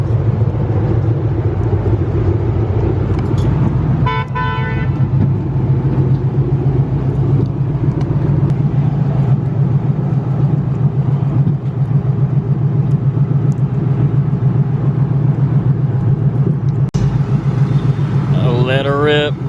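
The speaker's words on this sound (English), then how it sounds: "Here she goes, Betty on the dyno." A 1969 Mustang with a 302 V8 sits on a dyno, its engine holding a deep, steady rumble for most of the run with brief rising revs near the start and end, while people talk.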